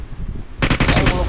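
Rapid gunfire from the PUBG Mobile video game bursts out after a quiet moment, a loud close volley of about eight fast shots.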